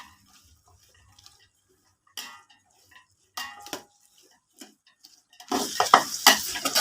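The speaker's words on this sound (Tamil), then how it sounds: "வெங்காயத்தை நல்லா வதக்கிக்கலாம்." Six onions sliced lengthwise go into a pan for chicken biryani: near silence with scattered clicks and light sizzles, then a loud, dense burst of frying toward the end.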